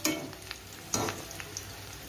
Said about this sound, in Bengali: আমার ভাজা কমপ্লিট। এবার পকোড়াগুলো তুলে নেব।